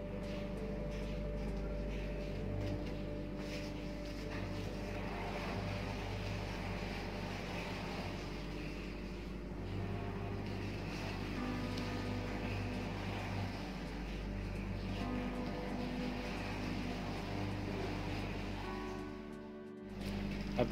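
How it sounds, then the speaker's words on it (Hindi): Machinery hums steadily in the workshop area of a ship's engine room beside a 3400 bhp main engine, a low continuous drone with tonal whine, fairly faint and unbroken, with no speech. "अभी जो देख रहे हो आप, वो जहाज़ का वर्कशॉप एरिया है"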